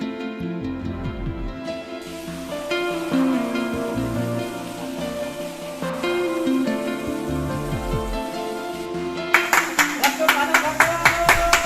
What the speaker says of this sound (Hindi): जैसे ही ताली बजती है